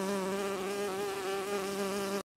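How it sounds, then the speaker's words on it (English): A bee gives a continuous, steady buzzing drone, close and even throughout, that cuts off sharply at the end. "Baby bee."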